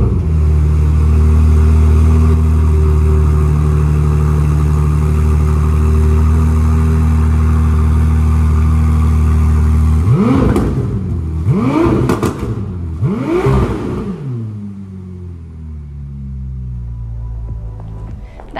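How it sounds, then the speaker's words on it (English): A 2023 Ferrari 296 GTS V6 hybrid engine idles steadily, then revs sharply three times in quick succession, each rev rising and falling, before settling back to a low hum. "Let's hear what this V6 hybrid engine sounds like."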